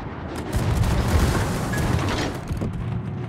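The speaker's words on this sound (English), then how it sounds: "Anti-aircraft gun." Anti-aircraft guns blaze aboard the warship Wukong in World of Warships: a dense, continuous barrage of booming reports blends into a rumbling roar of rapid fire, loud and steady throughout, with no voices.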